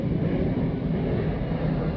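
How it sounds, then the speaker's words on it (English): Airplanes fly overhead, producing a steady, broad engine roar that holds at moderate loudness throughout without other sounds. "And this way I can listen to the planes too."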